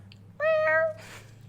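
A cat gives one clear, drawn-out meow lasting about half a second, close and distinct against a quiet background hum, followed by a soft breathy rustle.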